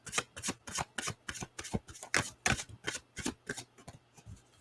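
Tarot cards being shuffled by hand, a quick run of crisp riffling slaps and flutters repeating in an uneven rhythm, close and fairly quiet, with no voices.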